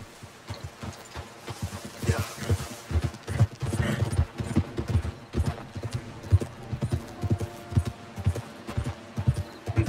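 Horse hooves clip-clopping in the Red Dead Redemption 2 video game, a steady rhythmic gait of close, loud hoofbeats with some creaking tack and mechanical clatter, running continuously.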